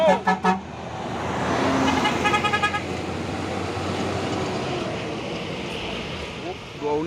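A convoy of Hino trucks rolls past on a road, engines rumbling steadily with several short horn toots at the start and a couple more near the end.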